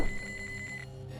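Telephone rings in a fishing video game as a steady, thin electronic trill with a quick pulsing flutter, moderately quiet over a low background hum, lasting under a second before stopping.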